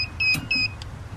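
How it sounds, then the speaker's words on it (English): A kitchen timer beeps in two short electronic bursts while beef ribs smoke, the tones bright and clear over a low background rumble. "And my timer just went off."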